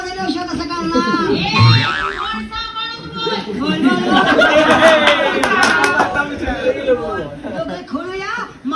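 Clapping among a lively crowd at a Ganesh mandal, hands clapping amid loud chatter, laughter and overlapping voices throughout.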